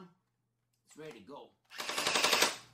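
An M4 gel blaster toy gun fires a rapid burst of gel balls, a loud, fast rattling volley after a brief quiet stretch with a short mechanical whir and a voice before it.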